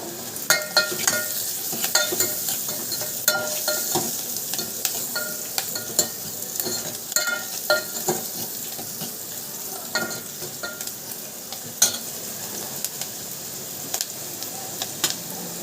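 Onions sizzle in a pan while a spoon scrapes and stirs them, a steady frying hiss broken by repeated sharp clinks and scrapes throughout.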